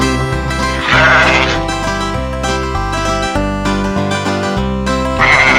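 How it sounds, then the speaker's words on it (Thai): A sheep bleats loudly and repeatedly over a bouncy children's nursery rhyme backing track, the bleats rising clearly above the steady music. "แบะแบะแกะดำ เธอมีคนหรือเปล่า"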